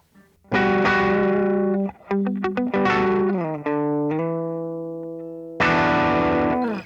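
Electric guitar played through an Effects Bakery Bagel overdrive pedal, crunchy distorted chords ringing out, then a run of quick picked notes, a long sustained chord fading, and a final loud strummed chord, close and alone.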